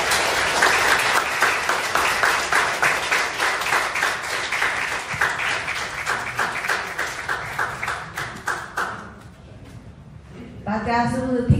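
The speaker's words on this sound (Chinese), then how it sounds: "我们谢谢掌声" Applause from an audience at a talk in Singapore, sustained and rhythmic, with many hands clapping in near-unison beats that fade out before a voice begins speaking at the end.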